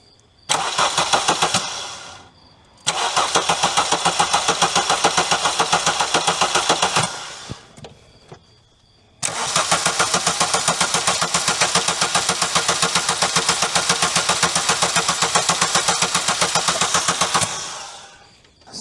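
An old VW engine left sitting in storage for 18 years cranks over in long, steady rhythmic bursts, stopping briefly twice between three sustained runs of loud, close mechanical churning.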